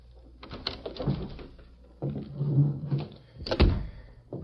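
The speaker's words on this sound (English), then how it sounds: "Red Bassett unlocked the door of the Clarion office." Door of a small-town newspaper office being unlocked and opened in a radio drama: a few scattered clicks and rattles, then heavier thunks and a latch knock, close and distinct with no talk.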